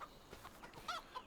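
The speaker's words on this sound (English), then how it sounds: "We have chickens, grand total of 10 chickens" Faint, brief clucks from a small backyard flock of ten chickens, a few soft bird calls scattered over a quiet background.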